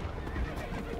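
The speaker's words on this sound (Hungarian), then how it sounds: "Ő csak egy sima ló." A horse in the video game The Witcher 3 gives a short, close neigh amid a faint game-world background.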